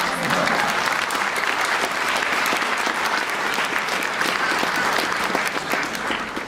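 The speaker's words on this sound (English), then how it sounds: "Let's clap for her." Graduation audience breaking into steady applause, a dense wash of many hands clapping at close range that holds strong for several seconds before easing slightly at the end.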